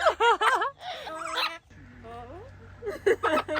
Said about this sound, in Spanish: está peleando con el lorito